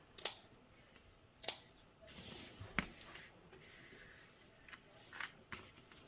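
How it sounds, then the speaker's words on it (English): Scissors snip through a fabric seam allowance, trimming and clipping curves, as a few sharp isolated cuts spaced out over several seconds in a quiet room. "I want to go ahead and trim this just a bit and make some clippings in the curved areas."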